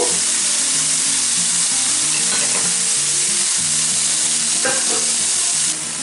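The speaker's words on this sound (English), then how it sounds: "Now while that meat's browning off" Venison cube steak browns in a frying pan with a steady, loud sizzle and crackle throughout, sharp pops and spits breaking through now and then, and no voices.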